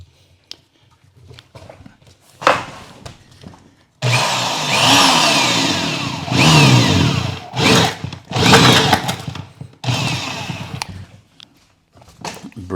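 A 1.5 inch Forstner bit is drilling into a workpiece for a tiny house build. The power drill whines loudly and roughly in long bursts with short pauses between them.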